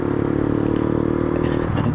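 A Honda Factor or Titan 125–150 motorcycle idling with a metal-on-metal grinding noise, a dense rough engine rumble with clattering scrapes running steadily throughout, close and loud.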